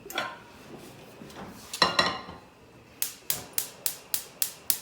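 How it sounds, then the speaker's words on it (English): Metal cookware clanks and scrapes a few times, then a quick regular series of sharp taps, close and clear. "So we'll take a frying pan."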